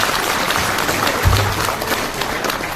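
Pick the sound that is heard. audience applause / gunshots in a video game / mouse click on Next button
audience applause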